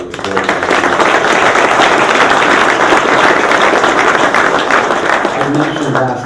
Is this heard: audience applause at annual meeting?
yes